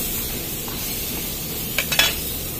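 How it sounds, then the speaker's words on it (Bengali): Pointed gourd (potol) fries on low heat with a soft, even sizzle, and a couple of quick utensil scrapes near the end. "ততক্ষণ পটলগুলো একটু হালকা আঁচে ভেজে নিই।"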